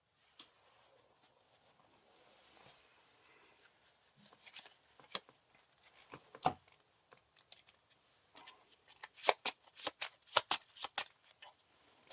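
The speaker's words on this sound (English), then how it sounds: "Shuffle the encounter deck." A deck of cards for the Lord of the Rings living card game being shuffled during play: soft riffling at first, then a run of sharp, rapid card snaps and flutters growing louder toward the end, close by with no talk.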